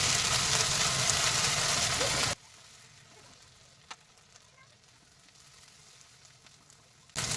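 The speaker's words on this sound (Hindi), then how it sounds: "ये देखिए, अदरक लहसुन भी हमारा भून गया है।" Ginger and garlic fry in a hot pan for a masala, giving a loud, steady sizzle that cuts off abruptly and leaves a quiet stretch before the hiss returns at the very end.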